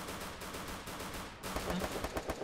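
Gunfire in the Free Fire video game, a dense run of rapid automatic shots blending into one another, loud and continuous with a burst of heavier shots partway through, no voices.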